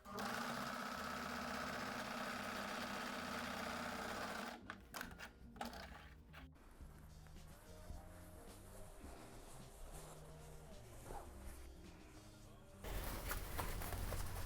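A sewing machine stitching the corners of a floor cushion, a close rapid mechanical whir that starts and stops in bursts, with quieter handling noises between runs.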